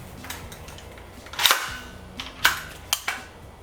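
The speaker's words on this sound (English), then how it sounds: "So we'll go ahead and pull out that loaded stainless steel magazine," A loaded stainless steel magazine is pulled from a rifle with a 20-inch barrel: a few sharp metallic clicks and clacks, close and distinct, over quiet background.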